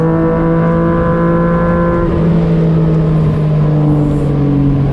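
A Yamaha MT-09 and a Honda CBR650F ride fast along a curving road, their engines a loud, sustained drone whose pitch shifts gradually as the riders hold speed, with no talking.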